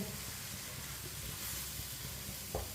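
Salt, red chili powder and turmeric frying in a pan for aloo bhindi, giving a steady close sizzle with a soft stir or clink near the end and no talk.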